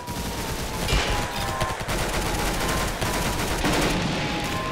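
Rapid gunfire from the Roblox game Arsenal, dense bursts of shots with sharp cracks repeating throughout, loud and close, with no voices.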